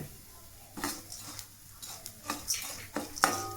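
Curry leaves being dry-roasted and stirred in a pan, with repeated scraping and stirring strokes plus light clinks of a spatula against the pan over a faint sizzle, close and quiet.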